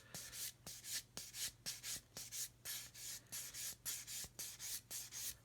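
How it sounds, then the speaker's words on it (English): A molded part being hand-sanded while it is turned, giving a rhythmic series of short, close scratchy strokes with brief pauses between each pass and a low steady hum underneath. "I'm turning the part as I'm sanding it"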